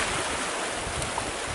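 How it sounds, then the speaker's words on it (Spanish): Waves wash steadily onto a beach at Condesa del Mar, a broad continuous roar of surf mixed with wind noise on the microphone, loud and without pause. "Bienvenidos a la playa, Condesa del Mar."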